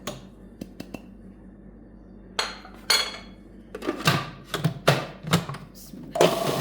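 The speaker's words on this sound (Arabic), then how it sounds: "بحط معهم رشة برغل تينطحنوا منيح" A food processor grinds raw meat with bulgur and spices for Lebanese kibbeh nayyeh, starting with a few clicks and short whirs, then loud bursts of pulsed blending that grow denser toward the end, close by.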